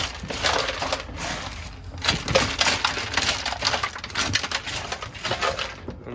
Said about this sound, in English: hammer that side up and see what happens